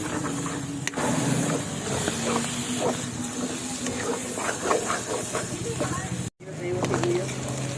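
Canned tuna in oil with soy sauce being sautéed in a pan, a steady hiss and sizzle with light stirring clatter, heard under intermittent talk.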